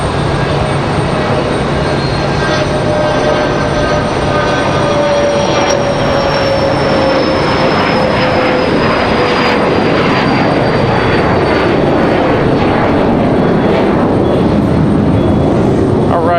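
An airliner taking off from Raleigh-Durham airport throws out a loud, continuous jet roar with a slowly sliding whine that carries across the whole stretch. A voice talks at times beneath the noise.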